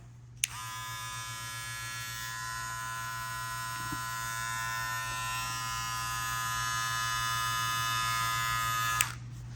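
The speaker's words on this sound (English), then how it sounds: "it'll make the clipper a little louder" An electric hair clipper switches on and buzzes steadily at close range for several seconds, then clicks off.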